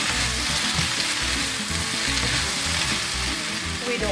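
Beef fries in a pan with a loud, continuous sizzle and a rough, rhythmic crackle underneath, steady and close, with no talking.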